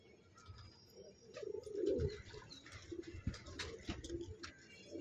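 A pigeon coos in Patiala during pigeon catching. Soft, low, rolling coos repeat in short phrases, faint and somewhat distant, with a few light chirps scattered around them.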